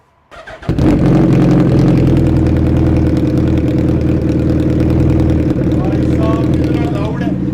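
Hayabusa motorcycle with an Oxygen short can silencer bursting into a loud, deep exhaust roar after a short quiet start, holding a strong, steady rumble close by with faint voices underneath.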